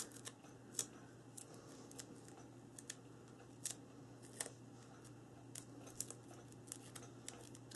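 Scissors trim paper for a Halloween mini album, producing faint, close, irregular snips and soft paper rustles over a quiet steady hum, with no voices.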